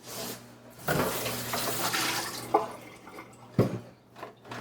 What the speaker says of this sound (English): our kumquats, which I am going to rinse under cold water